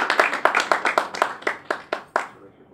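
An audience at a scholarship reception applauds a winner, Raina Boston, with a series of sharp, spaced claps that ring out close and strong, then thin out and fade after a couple of seconds.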